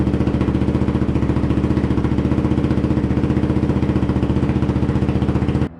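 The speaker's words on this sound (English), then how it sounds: "the KLR is running exactly like it did before we started the video" A warmed-up Kawasaki KLR motorcycle engine runs steadily at a fast, even thump, close and uninterrupted until it cuts off abruptly at the end.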